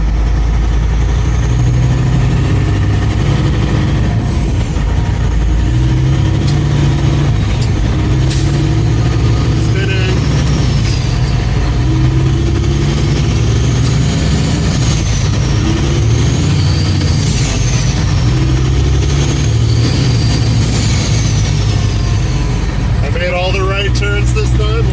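A truck engine idles steadily with a low, continuous rumble that swells now and then as it revs, staying close and loud throughout, with people talking over it.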